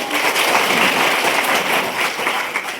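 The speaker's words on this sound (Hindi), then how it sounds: "जोरदार तालियां एक बार अपने लिए।" Loud, sustained applause from an audience at a school model parliament event, dense clapping filling the whole stretch without pause.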